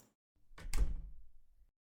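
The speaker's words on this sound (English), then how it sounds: "I happened to wake up on hearing the sound of the room door being closed" A room door swings shut in the horror game Vampires' Melody, a single close thunk with a brief rattle and low rumbling decay, heard alone.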